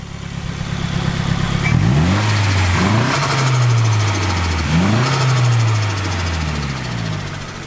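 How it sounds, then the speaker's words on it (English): A Nissan Sileighty engine with a stock T25 turbo revs up and drops back several times, each lift-off followed by a fluttering chatter from the turbo, loud and close with no talk. "So he's got some insane turbo flutter on this."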